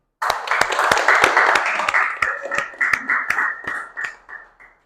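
A classroom of students claps after a group presentation, a burst of loud, sharp hand claps that starts suddenly, stays brisk for a few seconds, then thins out to scattered claps.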